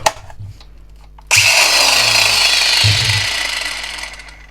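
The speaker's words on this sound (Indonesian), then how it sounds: "Saya coba untuk gerinda." An angle grinder powered by an upgraded NRT Pro 20V battery pack with Eve cells and a 40A BMS starts up after a few quiet clicks, then whines loudly and steadily up close until the end.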